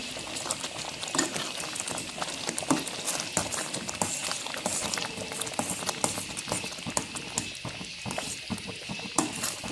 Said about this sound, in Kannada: ಕೈ ಬಿಡದಾಗೆ ಮಿಕ್ಸ್ ಮಾಡಿಕೊಳ್ಳಿ, ಇಲ್ಲಾಂದರೆ ತಳ ಹಿಡಿಯುತ್ತೆ